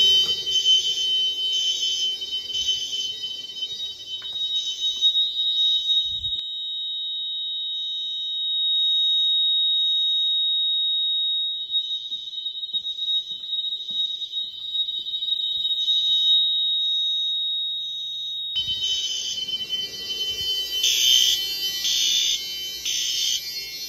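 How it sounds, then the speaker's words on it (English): Fire alarm mini horns, set off from a pull station, blare in a repeating pulsed pattern, switch to a long continuous high tone, then return to pulsing, loud and close. "let's set off the other pull station"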